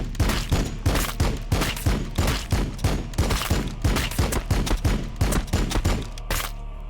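Rapid volleys of gunfire crack out in steady bursts during a Warhammer 40,000 Battlesector battle, loud and continuous with dense rhythmic shots and no voices.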